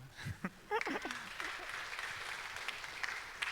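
Churchgoers at a Korean worship service clap together, the applause starting as a few scattered claps under a brief voice and settling into a steady moderate patter.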